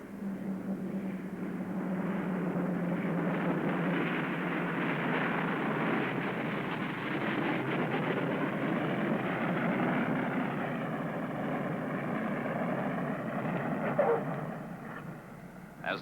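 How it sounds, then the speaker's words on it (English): A Douglas DC-6 propeller airliner lands on a snow-covered runway, its engines a loud, steady roar throughout, with a brief thump near the end as the propellers reverse pitch. "As the wheels touch down on the snow-covered runway, the pilots pull back the throttles, reversing the pitch of the propeller."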